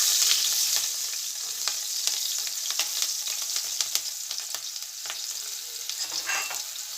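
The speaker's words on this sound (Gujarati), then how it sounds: "મેં આ 4 થી 5 કડી પત્તા લીધા છે, એડ કરીશું। ને મેં આ મરચાંની આ રીતે સ્લાઇસ બનાવી છે, એ પણ આપણે એડ કરી દઈશું અને 1 મિનિટ સાંતળી લઈશું।" Curry leaves and sliced chillies sautéing in hot oil for dal tadka, a continuous close sizzle studded with sharp crackles and pops for several seconds, no voices.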